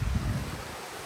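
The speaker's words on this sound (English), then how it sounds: "Wow, the creek is so loud." Loud rushing creek water on an off-grid river farm, a steady broadband roar with heavy low-end wind buffeting, close and continuous.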